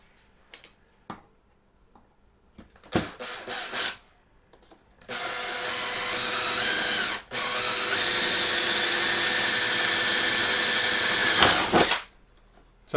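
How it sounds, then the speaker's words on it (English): A power drill boring holes through boards for a bridge over a pond, a few short bursts followed by two long continuous whines with a brief pause between, close and loud with no talk. "So I'm just drilling one at a time because I don't want it to shift and then the holes not line up."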